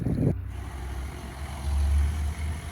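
A monster-sized tractor ploughs a muddy paddy field during wet-field sowing, a low, steady engine rumble mixed with wind buffeting after a brief louder burst at the start, with no talking.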